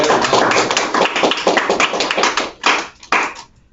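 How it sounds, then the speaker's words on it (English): Classroom students clap together for a classmate in a loud, dense burst of applause that thins out into a few scattered, separate claps before stopping. "Give him a round of applause,"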